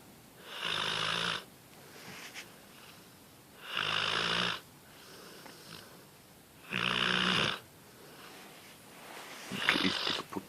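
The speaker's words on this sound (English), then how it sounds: "within 30 seconds he just zonks off and snores." A sleeping puppy snores in three loud, regular rasping breaths a few seconds apart, with quieter breathing between and a rougher snort at the end, heard close and alone.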